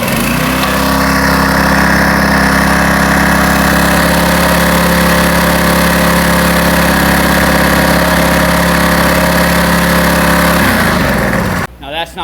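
A Honda GX small engine on a greens-rolling machine runs steadily at a loud, close idle-like drone while spitting gas from its cap, cutting out abruptly near the end.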